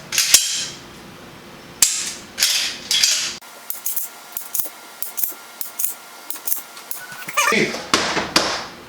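Dry fire trigger clicks from a pistol fitted with a Mantis X10 training sensor, sharp and close and spaced a moment apart, with handling noise between them and bursts of speech at the start and end.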